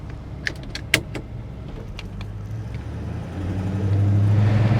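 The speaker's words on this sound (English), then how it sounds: "Let's drive this thing, see what it runs like." 1969 Plymouth GTX with a numbers-matching 440 engine being started and driven, a few clicks and key jingles first, then a low engine rumble that grows steadily louder and closer, no talk.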